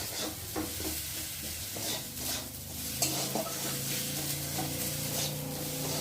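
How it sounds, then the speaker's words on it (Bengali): Spices fry for potato dum in a pan, with a spoon stirring and scraping continuously over a steady sizzle and clinks of metal cookware, and no voices. "মশলাটা ভেজে নেব"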